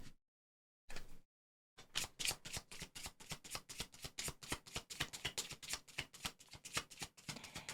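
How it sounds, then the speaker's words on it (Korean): Tarot cards are shuffled by hand in a quiet room: two brief rustles, then a long run of rapid, crisp riffling flutters, close and alone. "타로 카드 섞어서"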